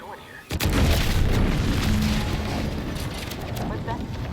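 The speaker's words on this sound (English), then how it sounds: "What's that? An explosion?" A large explosion in the video game The Outer Worlds 2: a sudden heavy boom that gives way to a long rumbling roar, with a voice speaking over it.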